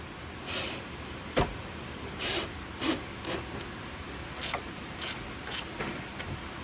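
A nut being spun and tightened onto a bolt with a washer on a 2022 Yamaha FX jet ski seat strap gives short, repeated rasping and ratcheting scrapes in bursts, close and fairly quiet, with no talk.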